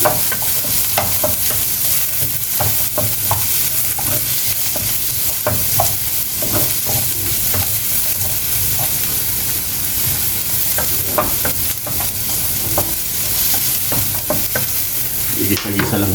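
Garlic, onion and ginger fry in reused oil in a pan with a continuous loud sizzle and intermittent stirring clatter, heard close up with no talking.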